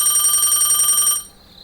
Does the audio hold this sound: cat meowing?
no